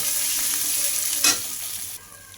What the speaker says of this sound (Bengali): সমস্ত কিছু ভালো করে তেলের সঙ্গে কষিয়ে নেব